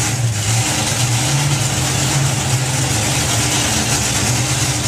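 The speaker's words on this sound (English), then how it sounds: "So twin turbo in that Volvo" A twin-turbo Volvo drag racing car engine runs steadily and loudly throughout, a continuous low droning rumble with a slight rise and fall in pitch, as if idling or held at revs nearby.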